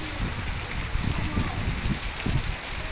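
Steady rain falls on a Saturday afternoon in Limoeiro do Norte, a continuous close hiss of drops with a dense low patter from water hitting surfaces, no voices.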